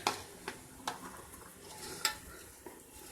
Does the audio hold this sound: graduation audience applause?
no